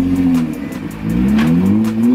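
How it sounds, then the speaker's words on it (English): A Nissan GT-R engine revving loudly and close, its pitch rising and falling through two strong pulls, with no talk. "Right now we're gonna quickly switch on the GTR"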